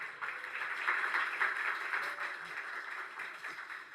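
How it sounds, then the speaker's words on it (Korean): Soft, distant applause ripples through a small audience at a policy forum on alternative education in Seoul, steady for several seconds at a low level. "큰 박수로 발제 내용을 듣도록 하겠습니다."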